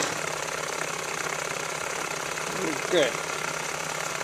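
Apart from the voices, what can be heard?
small hot air Stirling engine running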